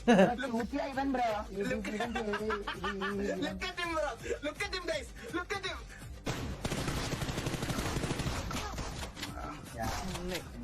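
DBS shotgun fire in a video game, a dense burst of blasts in the second half following a stretch of excited talking and laughter over the game.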